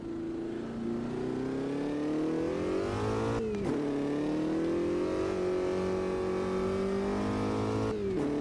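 A Ligier race car in a video game revs hard around Bathurst, its engine tone climbing steadily, then dropping sharply at two gear shifts before rising again. The sound is continuous and close, with no voices.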